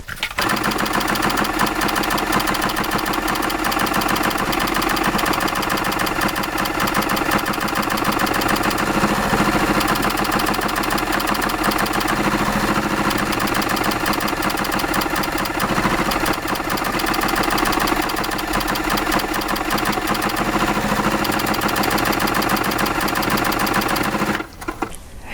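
A sewing machine stitching fabric steadily at a moderate pace, a loud close continuous mechanical whir with rapid rhythmic needle clatter that runs unbroken before stopping abruptly at the end, no talk.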